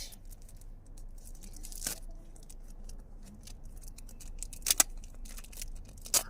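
Sharp tearing and ripping bursts of tape and paper as a taped football card pack is torn open, a few brief loud rips scattered over quiet handling noise, close by.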